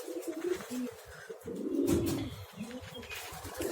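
Pigeons coo repeatedly in low, throaty bursts, fairly close, with soft chirps and faint background noise at a rooftop loft where young pigeons are kept.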